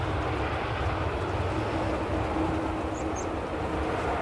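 An EasyJet Airbus A320 arriving at Manchester Airport, a broad, steady jet roar filling the whole clip, loud and continuous.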